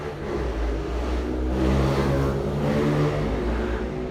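A motorcycle engine revs loudly in nearby street traffic, rising and holding in a rough, throbbing roar with other traffic rumble underneath and no speech.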